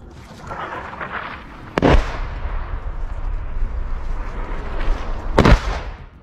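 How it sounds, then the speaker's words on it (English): Russian artillery firing along a front line, two sharp heavy booms several seconds apart over a steady rumble of wind and distant background noise. "Russian artillery is continuously firing on Ukrainian armed forces soldiers along the entire front line."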